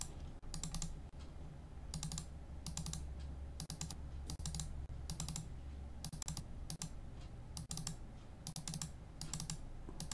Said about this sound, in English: Lots of double clicking, lots of double clicking.